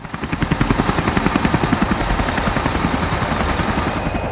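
A helicopter flies close by in a children's story about a ninja pilot, its rotor thumping in a steady fast rhythm. The thumping is loud and clear at first, then eases slightly while staying near, with no voices.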